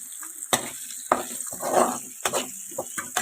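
Potatoes fry in hot oil for aloo rice, sizzling loudly while a spoon scrapes and knocks against the pan in irregular strokes, close and busy.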